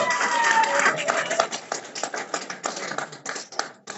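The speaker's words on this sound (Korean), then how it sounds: "또 박수 부탁드리겠습니다" An indoor audience at a local lawmaker's office event with a former anti-corruption commission chair claps in a dense patter that thins toward the end. A voice talks over it.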